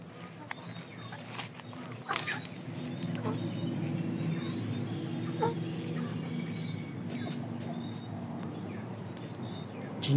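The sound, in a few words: chicken clucking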